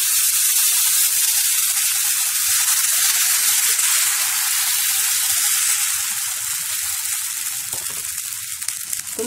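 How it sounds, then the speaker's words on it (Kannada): Watermelon dosa batter sizzles steadily on a hot pan, a loud, close, continuous frying hiss that eases slightly toward the end, with no talking. "ಹೆಚ್ಚು ಬಿಸಿಯಾಗಿದೆ, ದೋಸೆ ಹಾಕೋಣ."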